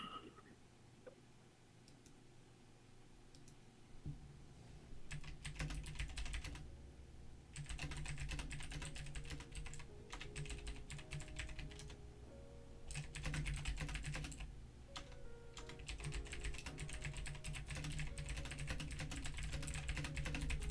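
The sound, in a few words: computer keyboard typing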